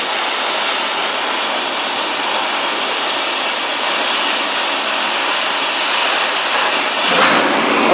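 An oxy-acetylene torch cuts through metal and blows out slag, giving a loud, steady roaring hiss that runs unbroken for about seven seconds before it changes and thins out near the end.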